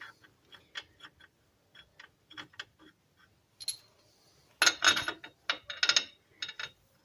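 A hand ratchet tightens a threaded part on a 1998 Ram 1500 axle, giving quick bursts of sharp, close clicking in short runs with brief pauses, growing louder and denser toward the end.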